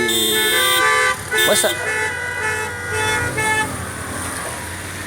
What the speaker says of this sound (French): Alors c'est à qui ira de son petit coup de klaxon le plus créatif.